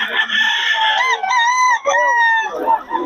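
A Sweater gamefowl rooster at a Bocaue fowl market crows loudly and close by, a long wavering call with a break partway through, then a fainter trailing note.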